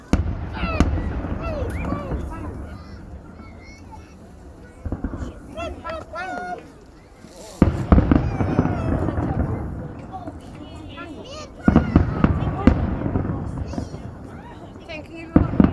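Fireworks bursting over a city at New Year from Ramberget in 2019, with several loud bangs and crackling volleys heard at a distance, mixed with nearby people chatting and reacting between the blasts.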